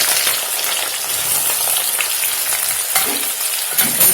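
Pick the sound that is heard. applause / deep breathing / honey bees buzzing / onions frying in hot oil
onions frying in hot oil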